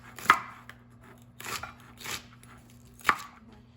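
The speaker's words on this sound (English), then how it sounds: "then I trimmed the ends like such" A knife trims the ends off okra on a cutting board in a quiet kitchen, making a few sharp, separate chops spaced irregularly with brief pauses between cuts.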